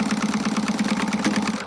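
A sewing machine runs in reverse to backstitch through fabric, a steady close mechanical hum with a fast even chatter of the needle throughout, easing off at the very end.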